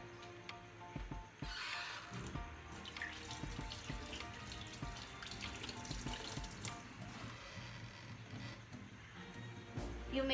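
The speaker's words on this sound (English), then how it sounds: "turn on the tap water before applying soap" Tap water runs into a sink for handwashing in a nursing demonstration, a steady close splashing stream with small clatters and shifts as hands move under it, no talk.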